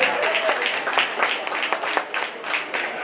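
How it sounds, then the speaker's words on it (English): Applause breaks out for the winner at a county fair sheep show, a steady patter of clapping from a moderately sized crowd with a voice faintly underneath. "That's a really neat looking one that deserves a huge round of applause."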